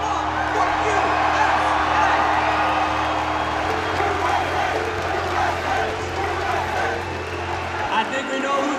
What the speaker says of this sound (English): I think we know who the hometown crowd is cheering for